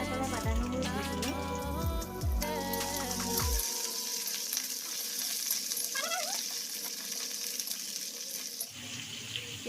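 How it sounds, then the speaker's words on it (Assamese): Onions with ginger and garlic fry in a pan, a steady bright sizzle running throughout after a few clinks and splashes of water at the start. "এতিয়া মই ইয়াত অলপ আদা নহৰু দি দিম।"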